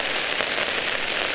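Freezing rain patters steadily on a tent during a spring snowstorm camp, a dense, continuous hiss of tiny impacts at close range with no pauses and no voices.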